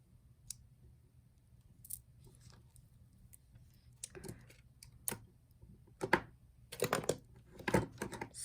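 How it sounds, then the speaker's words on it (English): Small cutters snip jewelry beading wire, producing sharp isolated clicks and snaps in a quiet room, growing busier with several quick clustered cuts and handling noises toward the end. "snip the wire here"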